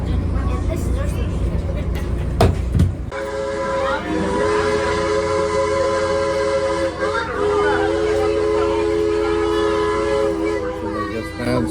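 Aboard the Hill Country Flyer excursion train in the Texas Hill Country, a loud continuous rumble of rolling cars fills the ride, with sustained tonal whistle-like lines and people talking over the noise.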